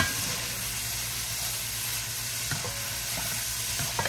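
Shrimp cooking in butter in a pan, a steady close sizzle and hiss that runs continuously, with a few faint clinks of stirring.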